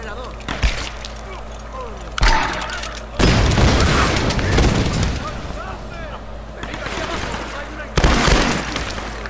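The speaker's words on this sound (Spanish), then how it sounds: "¿Cómo era para disparar petardos de esto?" Booming blasts from firecrackers fired in the Tomb Raider video game, heavy thuds around the one-, two-and-a-half- and eight-second marks plus a long rumbling burst in the middle, with game noise and a voice talking over it.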